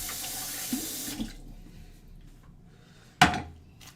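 Water runs from a kitchen tap to wet a knife for cutting sushi, a soft hiss of flow that stops after about a second, followed by quiet and then a sudden sharp splash or clunk.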